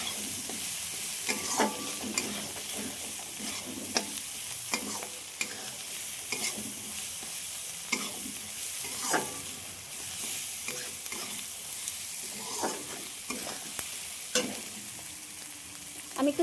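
Spices for a tadka sizzle steadily in a hot pan while a spoon stirs them, with repeated scraping strokes at an irregular rhythm over a continuous frying hiss, close and moderately loud.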